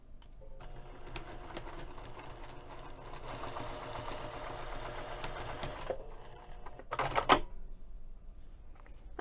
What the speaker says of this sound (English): we're going to sew this short end using 1/4 inch seam allowance.